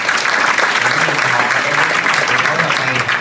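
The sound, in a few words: audience applause for three speakers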